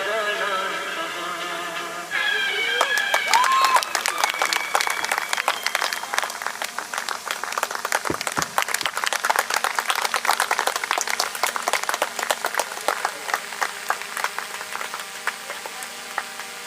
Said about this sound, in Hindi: तेज तेज ताली बजाओ ना इतने में ही।